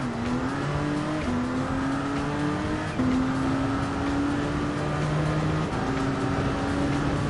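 Gr.1 prototype race cars in Gran Turismo 7 at Michelin Raceway drone steadily with engine pitch stepping up through gear shifts, a continuous loud racing roar with no talking.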